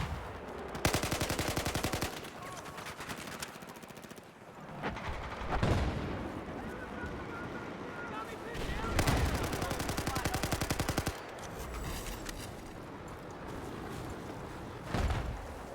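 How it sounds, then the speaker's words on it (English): Sustained automatic fire from an AK-5 assault rifle in Battlefield 4 multiplayer, loud bursts of rapid shots broken by short pauses and heavier booms, set against a dense battlefield backdrop. "So he uses the AK-5, immediately gets a couple kills."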